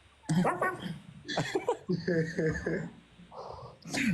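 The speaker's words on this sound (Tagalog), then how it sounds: "Doggy." A dog whimpers and gives a few short barks, mixed in with people talking close by.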